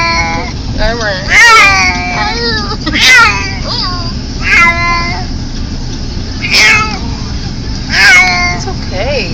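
An unhappy cat inside a cat carrier lets out repeated drawn-out meows, about half a dozen wailing cries spaced a second or two apart, loud and close.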